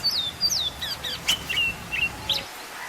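An Indian robin sings a string of short, high, clear whistled phrases and chirps with brief pauses between them, close and fairly loud over a quiet background.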